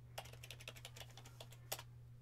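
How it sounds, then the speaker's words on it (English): Password being typed on a computer keyboard while setting up Manjaro ARM on a Raspberry Pi 4: a quick run of about fifteen light, close key clicks with a brief pause, quiet over a steady low electrical hum. "We're going to have to confirm that password by typing it in once again."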